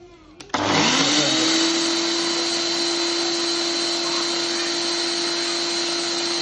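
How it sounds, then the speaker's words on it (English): A NutriBullet blender grinding rosemary salt starts abruptly with a clatter, then holds a loud, steady high-pitched whir as it grinds, running continuously without pause. "I've got my rosemary salt and my NutriBullet."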